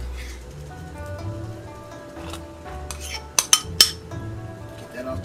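Metal whisk stirring miso paste into water in a pot while making ramen, a soft scraping swirl punctuated by a few sharp metallic clinks against the pot near the middle, close by with a faint background hum.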